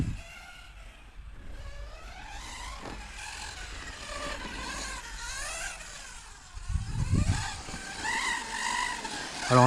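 A Hobao Hyper 10 SC 2.0 RC short-course truck on 2S power runs laps of a carpet track, its electric motor whining and rising and falling in pitch as it accelerates, brakes and slides through corners, growing louder near the end.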